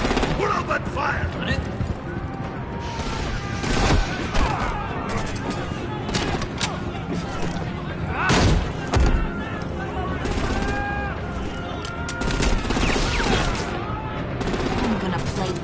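Dense bursts of gunfire crackle through a combat scene in Batman: The Enemy Within, the Telltale Series game, with sharp shots and short volleys repeating loudly over music and effects, while voices talk in between.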